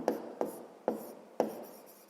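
Writing on a board during a sixth-grade maths lesson, four short scratchy marker or chalk strokes at uneven intervals, close and fairly quiet.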